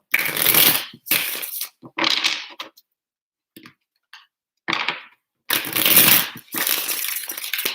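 Bursts of tarot card shuffling, riffled in several quick rounds with brief pauses between, close and crisp.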